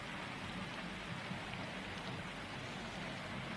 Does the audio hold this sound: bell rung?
no